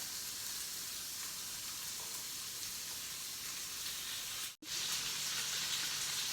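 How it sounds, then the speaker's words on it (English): Homemade burger patties sizzle in a pan with a constant, dense hiss close by. The sound is unbroken apart from a momentary cut near the end. "I'm just gonna pop these on the pan and cook them about 3 minutes on each side."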